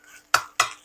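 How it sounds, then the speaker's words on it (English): Chicken fried rice is stirred and tossed in a pan, with three sharp scrapes of a utensil against the metal coming in quick succession, each fading out briefly. "you want to keep the rice in motion while you're heating it up"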